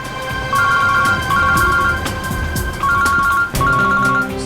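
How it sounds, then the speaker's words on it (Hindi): A mobile phone rings in repeated tonal bursts, a loud electronic ringtone pattern recurring several times with brief gaps. "श्रेया की माँ का फोन"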